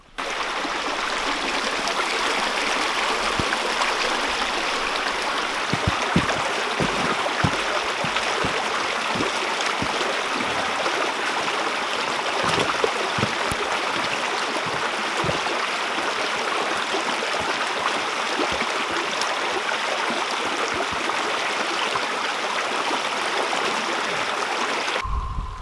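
Mountain creek in the snowy Sierra Nevada flowing steadily, a constant broad rushing and burbling of water, fairly close, with scattered soft knocks and thumps and no talking.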